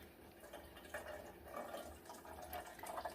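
Buttermilk from homemade raw cow's milk butter pours out of a blender into a sink, a soft continuous watery trickle and splash that swells in small surges, fairly quiet and steady, with no talking.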